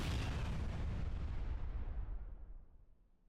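A bomb goes off in the space station game Space Station 14: a single loud, broadband blast with a deep rumbling body that fades over about three seconds, heard alone with no talking.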